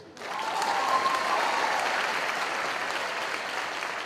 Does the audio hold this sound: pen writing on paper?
no